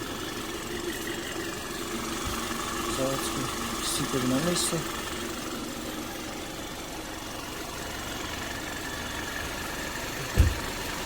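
BMW 530i with a 2-litre engine idling under an open hood, a steady mid-pitched hum with faint ticking, heard up close while someone talks over it and a brief knock sounds near the end.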